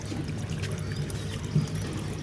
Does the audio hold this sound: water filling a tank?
yes